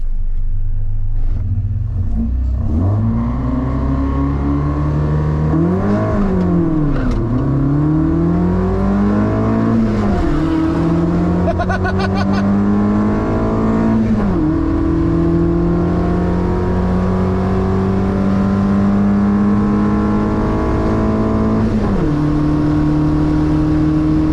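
A Datsun 1200 race car engine revs hard and accelerates down a drag strip through several gear changes, the loud roar climbing and dropping repeatedly as it speeds away.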